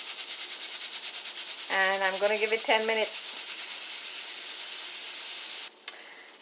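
A pressure cooker of chickpeas hisses steam in a steady, pulsing rhythm that continues beneath a woman's brief speech, then cuts off sharply near the end.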